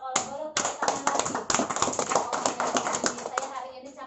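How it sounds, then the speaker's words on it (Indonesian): An audience at a community gathering claps together, a dense run of hand claps that starts abruptly, holds strong for several seconds, then thins out, with a voice heard briefly at the start and end. "Boleh tepuk tangan lagi"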